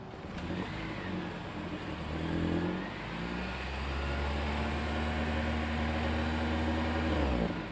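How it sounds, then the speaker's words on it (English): A 2025 Toyota Prius Prime XSE's hybrid 2-liter four-cylinder engine hums steadily and rises in a gentle rev, with a low drone swelling and holding near the end, heard up close without voices. "We'll try revving up this 2-liter 4-cylinder and hear how she sounds."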